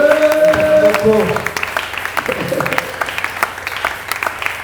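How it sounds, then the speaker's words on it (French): A church congregation at a French-language worship service breaks into applause, a dense patter of many hands that swells and then thins into scattered claps, with a voice or music audible at the start. "Acclamez la parole de Dieu"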